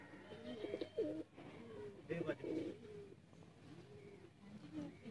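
Pure teddy pigeons in Sialkot cooing in soft, rolling bursts close by, a pair giving repeated low throaty coos with short pauses, under faint background noise.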